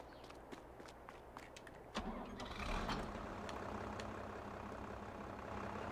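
Footsteps approach before a tractor engine starts up in the Farming Simulator 22 game, then settles into a steady, close, low rumbling idle that fills the rest of the clip without any talk.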